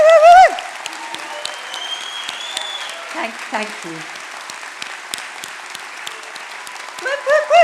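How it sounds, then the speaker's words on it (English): Moderate applause from the crowd at a university degree ceremony in Brighton runs throughout, with a nearby voice whooping over it at the start and end and a brief spoken thanks in between. "we should give the biggest round of applause for the people that have helped you get here today"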